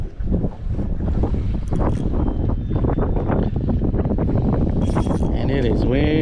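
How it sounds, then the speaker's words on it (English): Strong wind buffets a fishing boat on Badin Lake during crappie fishing, roaring and rumbling steadily against the microphone, with someone talking over the gusts. "And it is windy."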